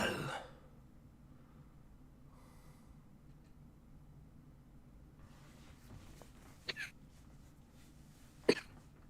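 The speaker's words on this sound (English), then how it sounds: "Sorry, I'm coughing." A person coughs: a sharp burst at the start, then mostly quiet low hum, followed by a couple of short harsh coughs or throat-clearing sounds near the end.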